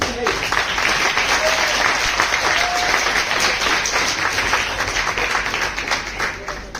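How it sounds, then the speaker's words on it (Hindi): An audience at a creators' conclave applauding, a dense steady wall of clapping that holds loud for several seconds before easing slightly, with a voice faintly audible underneath. "Let's have a huge round of applause."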